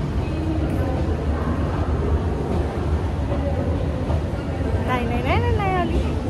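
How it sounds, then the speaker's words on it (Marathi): A metro train pulling into a station platform, a loud continuous rumble and rush of wheels and motors with a rising whine near the end, with people talking faintly underneath. "माझी मेट्रो आली आहे."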